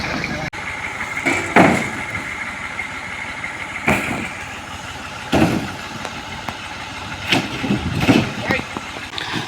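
A tractor engine idles steadily while coconuts are loaded, with repeated thuds and clatter of nuts landing, and people talk nearby throughout.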